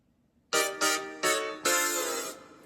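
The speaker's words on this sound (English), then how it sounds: "one's called synth piano, and the other one's just called brass stabs." Synth piano and brass stab synth parts hit in four bright, loud chords, the last one held longer, with no talking.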